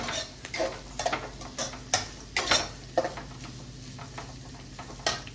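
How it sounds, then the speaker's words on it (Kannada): Green beans lightly stir-fried in a pan for a street-food recipe, with repeated scraping and clinking of a spatula over a steady soft sizzle, in uneven bursts with no talking. "ನೆಕ್ಸ್ಟ್ ಬೀನ್ಸ್ ಹಾಕ್ತೀವಿ. ಜಾಸ್ತಿ ಏನು ಫುಲ್ ಫ್ರೈ ಮಾಡೋದೇನು ಬೇಡ, ಲೈಟಾಗಿರಲಿ."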